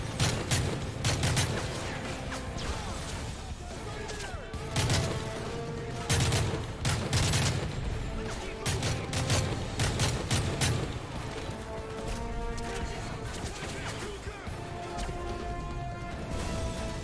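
Dense gunfire from Call of Duty: Modern Warfare 3 on PC, with bursts of rifle and automatic fire, crashes and booms rolling on throughout amid game music, loud and continuous.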